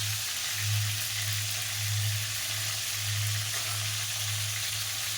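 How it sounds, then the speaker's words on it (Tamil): Eggplant frying in oil for an ennai kathirikai kulambu, a steady broadband sizzle with a low hum pulsing underneath, close and even throughout with no voices. "இப்போ நம்ம கத்திரிக்காய் வந்து எண்ணெயில் போட்டு வதக்கிக்கலாம்."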